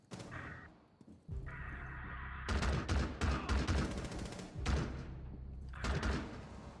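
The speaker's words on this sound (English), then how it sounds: "Oh, they shot me from that area over there." Gunfire rings out in the tactical shooter game Rainbow Six Siege, bursts of loud shots and impacts coming in clusters over several seconds with a low rumble underneath.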